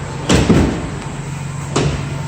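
The rear cargo door of a 2017 Ford Transit T-250 mid-roof long-wheelbase van swings open, giving two distinct clunks and a later third knock against steady outdoor background noise.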